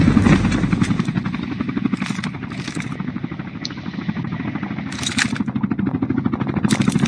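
Helicopter in the mobile shooter Call of Duty Mobile: a loud, steady rotor thrum with fast rhythmic chopping continues throughout, with brief game effects flaring over it.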